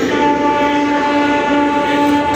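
A train at a railway station sounds a loud, sustained horn-like tone that holds steady over rumbling rail noise for the whole short stretch.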